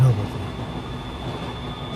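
A train runs with a steady, close rumble and rattle of rolling carriages, used as an effect in a Bengali horror story. It holds an even level throughout, with no clear voices.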